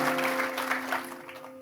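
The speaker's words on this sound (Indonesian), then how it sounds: "Yang setuju berikan tepuk tangan yang paling meriah." A church congregation gives a loud round of applause that fades slightly toward the end, with a steady electronic hum beneath the clapping.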